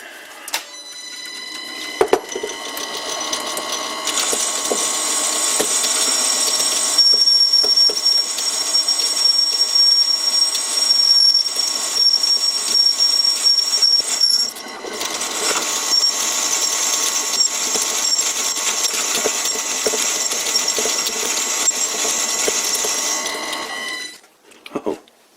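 An old wood lathe cuts metal in a steady, loud, whining drone with a high tonal squeal, the top slide showing backlash and a poor finish; it runs continuously for about twenty seconds with a brief dip midway, then stops near the end.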